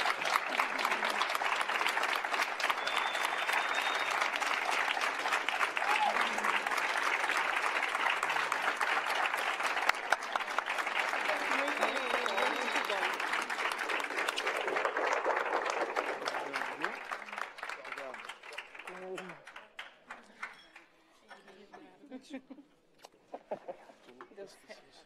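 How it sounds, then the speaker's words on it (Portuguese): Audience applause at a UK forum on Brazil: a sustained, fairly faint crowd clapping for about fifteen seconds, then thinning to scattered claps while voices talk and cheer over it. "Aplausos."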